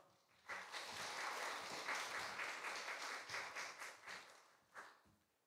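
A church congregation claps in welcome for an elder at an early-morning service, a dense, steady round of applause that swells quickly, holds, then thins to scattered claps near the end.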